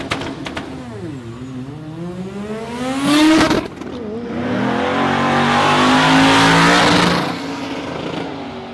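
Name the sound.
Lee Warnes' drag car hitting limiter or misfiring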